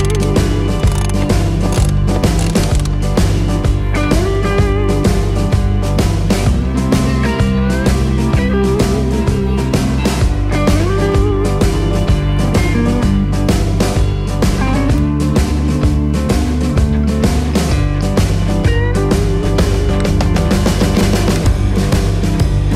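A ratchet clicks rapidly and repeatedly as bolts are tightened on a through-deck fitting aboard a sailboat, a loud, close, steady mechanical ticking with pauses between bursts and no voices.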